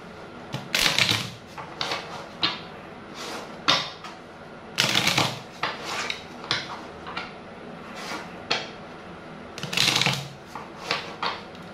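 Fortune-telling cards are shuffled by hand at close range, giving repeated quick riffling bursts with short pauses between them and no talk.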